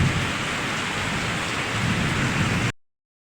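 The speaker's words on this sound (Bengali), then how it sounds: "চারিদিকে বৃষ্টি পড়ছে, বৃষ্টির থই থই চারিদিকে" Heavy rain pouring steadily on a village during a rainy morning, a dense close roar with low thunder rumbling underneath, cutting off abruptly.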